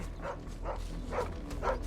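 A dog barks in the video game Final Fantasy 16, four evenly spaced muffled woofs at moderate distance over a low background rumble.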